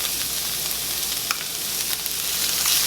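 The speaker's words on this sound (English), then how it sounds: "just add in my onions, and I'm going to cook these just a couple of minutes until they are tender" Onions cooking in beef grease for a cottage pie, giving a dense, loud, continuous sizzle up close with faint stirring scrapes and spatter, no talking.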